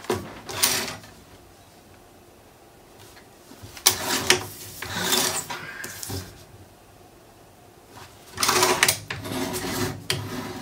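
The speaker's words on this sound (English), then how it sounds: "it looks like I need to shave a little bit off" Paper trimmer blade shaves a thin strip off a mini album page, heard as three separate bursts of short scraping slides, close and moderately loud, with quiet pauses between them.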